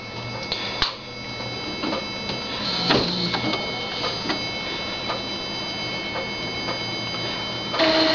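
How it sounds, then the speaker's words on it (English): An Epson inkjet printer fitted with a continuous ink system runs its ink-charging cycle, giving a steady mechanical whir with repeated ticks and clicks and a brief motor shift near the end, nearby and fairly loud. "the printer is going to go ahead and start charging the inks"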